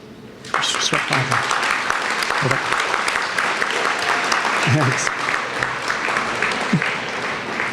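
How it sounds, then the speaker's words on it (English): An awards-dinner audience applauds its newly approved board of directors, with loud, sustained clapping that starts abruptly and holds at full strength. A few brief voices and a spoken word sound over the clapping. "Round of applause when you're ready."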